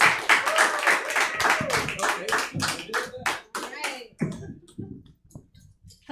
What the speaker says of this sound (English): start clapping, make noise, get loud, get excited